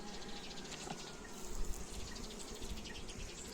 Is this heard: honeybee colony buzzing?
yes